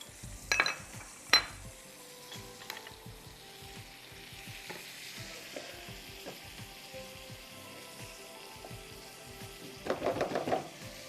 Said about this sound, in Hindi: जब मक्खन हो जाए तो आपने इसमें प्याज डाल देना है